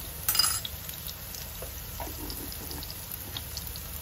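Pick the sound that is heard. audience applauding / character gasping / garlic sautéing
garlic sautéing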